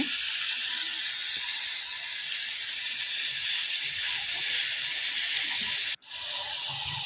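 Garlic and curry leaf paste sizzles in hot oil as a steady, close, even hiss that barely changes, broken by one brief drop to silence.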